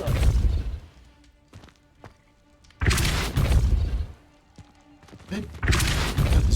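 Repeated Depulso spell impacts in Hogwarts Legacy land as heavy booming thuds in separate bursts, with softer clatter and footsteps in the gaps between them.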